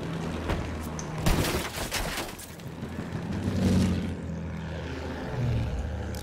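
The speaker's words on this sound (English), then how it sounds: "Oh, plane in front of us somewhere?" A propeller airplane in the World War I shooter Battlefield 1 drones and swells through a dense wash of distant gunfire and battle noise, rising and fading over several seconds without talk.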